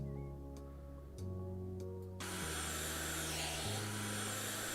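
A vacuum cleaner tool in the House Flipper video game starts up with a hum that steps in pitch, then switches to a loud continuous whooshing roar that fills the rest, with faint clicks before it begins.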